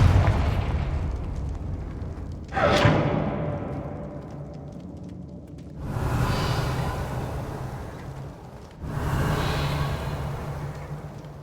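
Confringo explosive spell blasts from the Hogwarts Legacy video game: three loud booming bursts, each with a sharp onset and a long fading rumble, spaced a few seconds apart with no talk.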